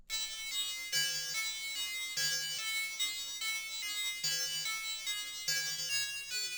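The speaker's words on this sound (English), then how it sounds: "Then I have this little accent pluck that sounds like this." A bright synth pluck plays a simple repeating melody of a few notes following the chord progression of a rage-style hip-hop beat in a steady rhythm, with no voices.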